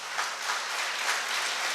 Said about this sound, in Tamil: இந்த லாங்குவேஜுக்குன்னே ஒரு பலத்த கைத்தட்டல் நீங்கள் தரலாம்